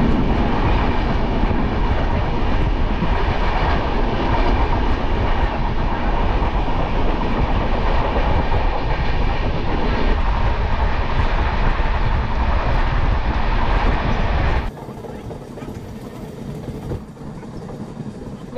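The 13152 Jammu Tawi Express between Ayodhya and Kolkata rumbles along the track in a continuous loud roar with clattering wheels, then drops to a quieter, steadier hum for the last few seconds.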